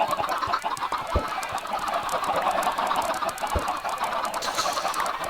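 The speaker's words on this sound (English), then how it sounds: "Ah, so many chickens." Crowd of chickens in a Minecraft-style video game clucking and squawking continuously, a dense flock of overlapping bird calls with a few sharp thumps, loud and close with no speech.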